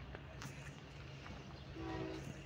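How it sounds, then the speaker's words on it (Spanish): A freight grain unit train led by AC4400CW locomotives sounds its horn at a road crossing in Mexico, a faint, distant tonal blast rising briefly over a low rail rumble. "Ahí van los silbatazos."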